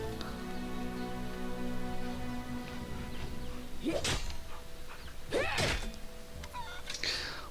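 A dog in the Pathfinder: Kingmaker video game gives two short, sharp barks or yips a second or so apart, fairly close, over a steady bed of soft game music.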